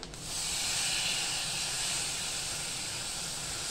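Chopped tomatoes drop into hot tempering with Kitchen King masala in a pan for a festive Gudhi Padwa veg thali, setting off a loud, steady hiss of sizzling oil that holds evenly throughout.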